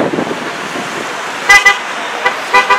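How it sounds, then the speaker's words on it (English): Several car horns honk in short bursts over steady traffic rumble at a street rally, two or three sharp toots standing out near the end. "Woo, I'm loving the honks."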